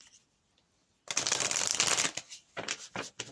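A Message of Love oracle card deck being shuffled close up, with a burst of rapid riffling followed by several shorter, choppier shuffles, and no talk.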